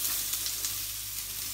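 Sliced long onions sauté in a pan for tomato kurma, giving a steady, close, bright sizzle with no pauses and no talk.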